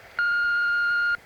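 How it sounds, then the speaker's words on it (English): One steady electronic answering machine beep, clear and loud, held for about a second against quiet line hiss, with no voices. "Leave your deets at the beep and I'll call you back as soon as I can."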